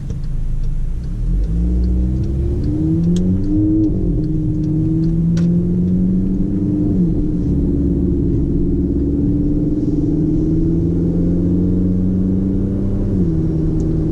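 A 2016 Volkswagen Jetta 1.4T S with a turbocharged 1.4-litre engine accelerating, heard from inside the car as a steady low rumble whose pitch climbs and drops through gear changes, continuous and close, with no talk.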